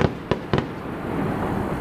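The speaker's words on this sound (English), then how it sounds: "That was a low quality firecracker something." Firecracker bursts: three sharp, loud cracks in quick succession at the start, each decaying briefly, then lingering low outdoor rumble with no talk.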